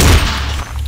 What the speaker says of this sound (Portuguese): já temos um segundo tiro muito tamanhoso